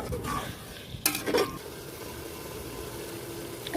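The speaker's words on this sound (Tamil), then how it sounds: "சிக்கன் நல்லா கொஞ்சம் ஃப்ரை ஆகணும் எண்ணெயிலேயே நல்லா ஃப்ரை ஆகணும்" Chicken pieces frying in oil for a seeraga samba chicken biryani, a steady close sizzle with a few sharp scraping stirs and clinks of a utensil against the pot near the start.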